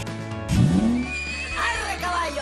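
A horse whinnies loudly and up close in one rising-then-falling call, set against a bright, busy studio show backdrop with music and crowd noise.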